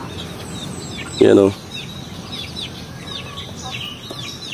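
A crossbreed rooster, mixed with native backyard chickens, gives a loud close cluck over a background of chirping birds, with a brief spoken remark nearby.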